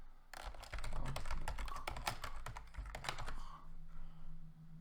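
Rapid, close keystrokes on a computer keyboard as a calendar name is typed: a dense run of clicks lasting a few seconds, then stopping and leaving faint background hum.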